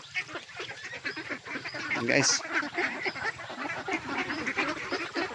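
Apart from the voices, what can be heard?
ducks quacking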